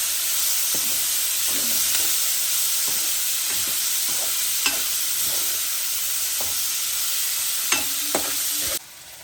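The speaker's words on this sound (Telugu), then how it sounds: "అలాగే ఇవి కట్ చేసుకున్న ఆనియన్స్ అదే ఆయిల్లో వేసుకొని ఫ్రై చేసుకున్నాం" Chopped onions fry in oil in a pan while being stirred for a dried mackerel tomato curry. A loud, continuous sizzle and hiss runs throughout, with repeated scraping and stirring knocks over it.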